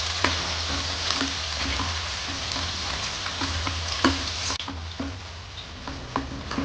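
Four large chopped onions frying in a pan, a soft steady sizzle with scattered ticks and scraping taps from stirring.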